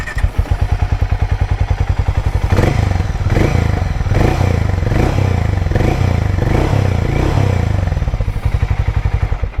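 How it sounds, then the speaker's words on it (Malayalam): A Hero Mavrick 440 motorcycle idling close up, its single-cylinder exhaust thumping in a rapid, even loud pulse, swelling briefly with a few revs in the middle before settling back to idle. "ഇനി ഇതിൻ്റെ എക്സോ സൗണ്ട് ഒന്ന് കേൾക്കാം."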